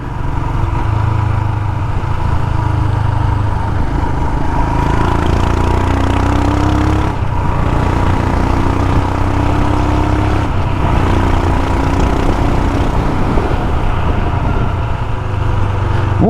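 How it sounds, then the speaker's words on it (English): A Royal Enfield Himalayan motorcycle rides along narrow back lanes, its single-cylinder engine a steady close thrumming drone with slight shifts in pitch as the throttle changes, no speech. "the Himalayan's a great bike for these little lanes"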